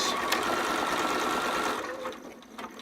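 A sewing machine back stitching at the end of a piece of fabric: a fast, even mechanical whir running close and steady for about two seconds, then slowing and stopping with a few faint clicks.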